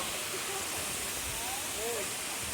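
Waterfall at Gabala, heard from a hilltop viewpoint with a small café: a steady, broad rushing wash of falling water, continuous and even throughout, with faint voices in the background.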